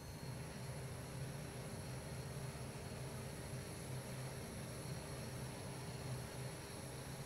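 A BAE Hawk T1 jet engine running after startup in Microsoft Flight Simulator, a steady, even jet roar with a constant hum and high whine, moderately quiet and unchanging throughout, with no talk.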